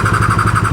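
A Polaris Sportsman ATV, a farm-auction find left for dead, idling with a steady, rapid pulsing thrum, close and loud, running on its own with no talk.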